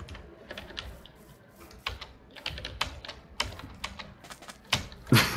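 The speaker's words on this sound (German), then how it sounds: "Es ist doch einfach nur nervig, wenn du was auf die Tastatur hämmerst." Fast, hard typing on a computer keyboard during a Minecraft livestream, dense irregular clacks with a few louder heavy strikes toward the end, close and continuous with no talking.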